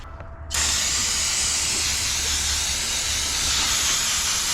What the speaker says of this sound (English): Clean everything up here with some brake clean